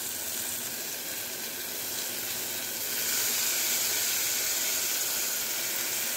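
Mint and coriander leaves sautéing in a pan for prawn biryani give a steady, moderately loud sizzling hiss that swells slightly partway through, with no talking.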